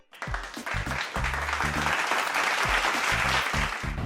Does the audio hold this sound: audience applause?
yes